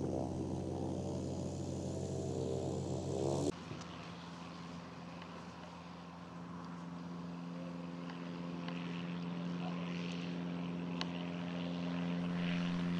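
A Grob Vigilant motor glider's engine runs as a steady, continuous drone with a strong low hum, loud and close, with an abrupt shift in tone a few seconds in, and no talking.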